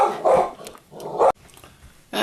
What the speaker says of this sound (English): Hold on, I gotta quiet the dog.